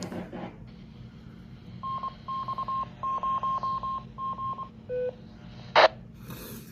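A Baofeng 5RM tri-band handheld radio keys up a repeater, sending a rapid series of short, evenly paced tones followed by a couple of single beeps and a brief burst of squelch noise.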